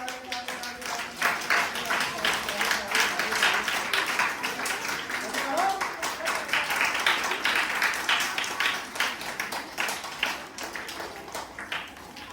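A magic show audience claps in a steady, rhythmic beat that lasts throughout, close and fairly loud, with voices mixed in.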